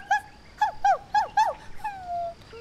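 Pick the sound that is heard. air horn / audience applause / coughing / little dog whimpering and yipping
little dog whimpering and yipping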